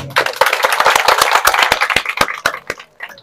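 Audience applause at a high school ceremony in a lycée, heard as a thinning run of sharp, distinct hand claps, close and fairly loud, that grow sparser and scattered before fading out.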